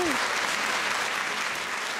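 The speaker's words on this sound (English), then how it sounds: "Please clap to me. Clap to me." A studio audience on a TV comedy show claps steadily, a thick wash of continuous hand claps close and even throughout, with a faint voice trailing off at the start.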